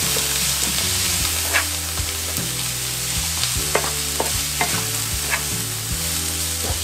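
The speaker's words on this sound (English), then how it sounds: "Give it a stir." Cabbage fries in a pan with a constant close sizzle while a utensil stirs and scrapes it in repeated rhythmic strokes, with no talking.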